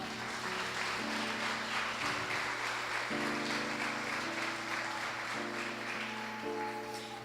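A church congregation at a Sunday service claps steadily and evenly, with a sustained organ or keyboard playing chords beneath the applause.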